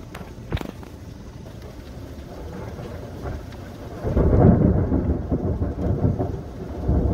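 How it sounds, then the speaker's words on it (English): A thunderstorm with wind and heavy rain gives a steady dense rush of rain, with a sharp crack early on and a deep rolling rumble swelling in the second half. "It just got wildly dark and stormy, and there's the wind. I wish you could see the rain."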